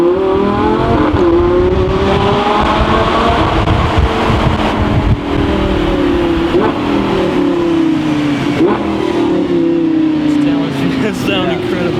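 A Lamborghini Gallardo LP560 drives through a tunnel on Paris streets. The engine revs loudly and close by, with repeated rising and falling surges echoing off the walls.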